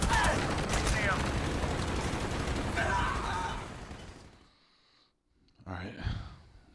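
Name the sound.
gunfire in Call of Duty Black Ops video game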